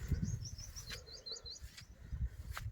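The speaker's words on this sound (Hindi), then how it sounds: "चिड़िया बेर के पौधे के ऊपर बैठी है दूर।" A small bird perched on a ber plant among sesame and mung crops gives short, high, rapid chirps, faint and distant, over a low rumble of wind and handling.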